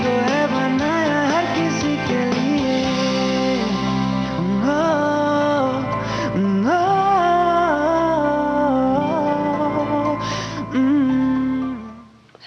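A song from the film Agent Vinod plays loudly and continuously: a voice sings a flowing melody over steady music with a sustained bass line, fading out at the very end.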